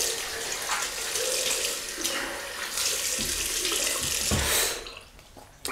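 A tap runs steadily to rinse an iKon B1 OSS DE safety razor, a broad watery rush with brief splashy changes as the razor passes under the stream, tapering off near the end.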